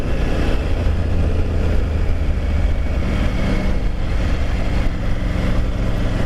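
A Triumph Tiger 900 motorcycle engine runs steadily at idle, a loud, close and continuous low rumble with no breaks and no talking.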